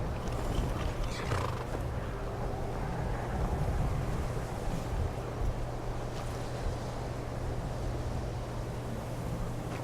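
Horse in the video game Skyrim, a steady ambient game soundscape with a continuous low hum and wind-like wash, the horse's presence faint and blended into the background for the whole stretch.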